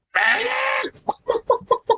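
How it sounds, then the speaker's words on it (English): A chicken lets out one long, loud squawk, then a run of five or six short, rhythmic clucks, heard close and clear with no talking over it. "Chicken."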